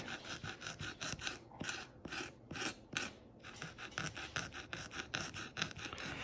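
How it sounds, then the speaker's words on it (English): Latex rubber clothing being sanded with abrasive grit to repair a tear, giving a close, steady run of quick rasping strokes in an even back-and-forth rhythm. "This right here is got the right kind of grit that it really works the rubber very quickly."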